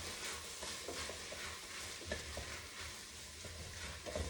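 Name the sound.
vegetables frying and being stirred in a pot for black bean soup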